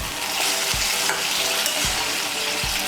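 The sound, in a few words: stirring bottle gourd and fish head with spices in a pan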